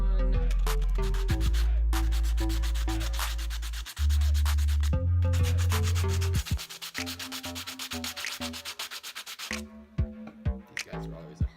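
Small 3D printed parts are rubbed against sandpaper by hand in close, rapid back-and-forth scraping strokes. The strokes come in bursts with short pauses between them.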